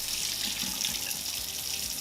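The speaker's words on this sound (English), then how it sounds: "I'm gonna rinse off the water from the apples." Tap water runs steadily into a sink while apples are rinsed under it. The rushing stream is close and constant, with no talking.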